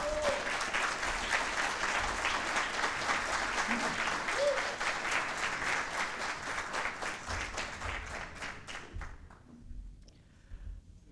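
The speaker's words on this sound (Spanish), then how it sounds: "un fuerte aplauso para Ignacio Bosler" A crowd at a book launch in Santiago de Chile gives a strong round of applause, sustained dense clapping that thins and fades out toward the end.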